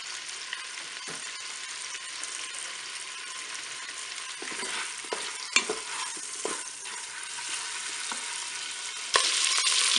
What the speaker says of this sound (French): j'ai mon beurre qui est fondu, je vais commencer à faire dorer mes paupiettes tranquillement